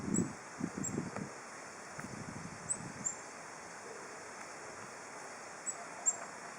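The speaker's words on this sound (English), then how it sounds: "It's getting a little windy here." Soft, steady outdoor wind noise with faint rustling and a few light, scattered ticks, quiet throughout.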